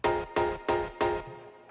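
Layered processed synth sounds playing together, four punchy chord stabs in an even rhythm followed by a softer fading tail, close and fairly loud with no speech.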